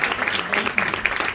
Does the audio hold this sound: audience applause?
yes